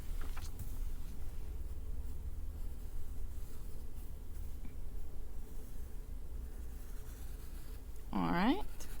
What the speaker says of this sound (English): I'm just going to draw that same parallel line to connect it